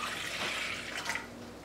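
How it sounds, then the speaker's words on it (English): Water pours from a tap into a pot for cooking couscous, a steady, fairly soft rushing splash that continues throughout with no talking. "I use 2 cups of water."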